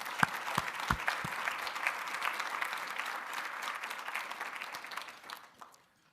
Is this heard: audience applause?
yes